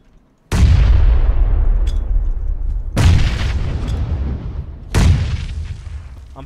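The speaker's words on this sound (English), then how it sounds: "I'm throwing all my nades at him." Three heavy grenade blasts in PUBG, a few seconds apart, each a loud, booming hit with a long rumbling tail and no talk over them.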